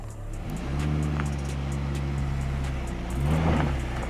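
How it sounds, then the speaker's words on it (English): A Volvo XC70 wagon's engine drones steadily as it climbs over an off-road obstacle, swelling in a short rev near the end, close and with no talk. "The XC70 drives the last section to the left of the step and avoids the diagonal suspension"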